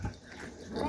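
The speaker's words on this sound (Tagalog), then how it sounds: "Tahol sila ng tahol." Dogs barking and whimpering close by in a short burst, with no talk.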